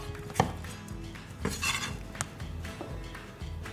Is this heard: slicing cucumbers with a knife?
yes